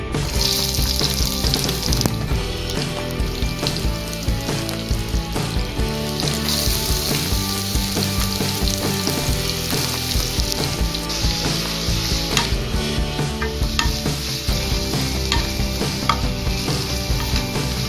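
Onions frying in a pan with cumin seeds for chana masala, a loud, dense, continuous sizzle with crackling spatter and occasional stirring, close up and without talk.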